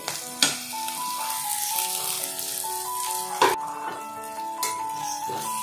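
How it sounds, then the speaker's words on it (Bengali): Spices and ginger paste sizzling in a pan for chicken biryani, a steady frying hiss broken by a few sharp clinks of a utensil against the pan, with no talking. "তো দেখো প্রত্যেকটা মশলা কিন্তু ভাজা হয়ে গেছে।"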